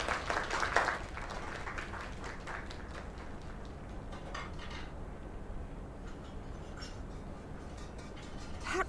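Faint scattered clapping from a small crowd in the video game Lake, with a burst at the start that thins into a soft patter of hands.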